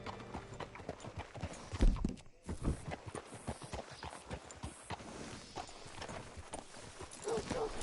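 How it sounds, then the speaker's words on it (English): Horse hooves clip-clop in the video game Red Dead Redemption 2, a steady walking rhythm of close hoofbeats with occasional louder thumps over faint background ambience. "Hitch your horse up here."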